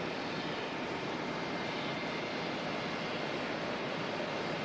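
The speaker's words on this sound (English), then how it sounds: "I hope you saw those two dashies that just took off." Dash 8 turboprop airliners taking off at Auckland Airport, a steady broadband engine roar that holds loud and even throughout with no voices.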